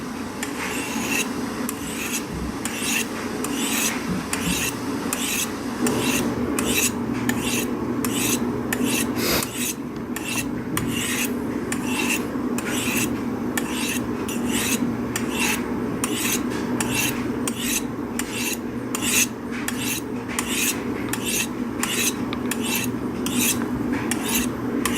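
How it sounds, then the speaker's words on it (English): A dull knife is worked on a Spyderco Sharpmaker, a steady run of quick, light rasping strokes of steel on ceramic rods, fairly close and continuous, with no talk. "This should be the final sharpening here."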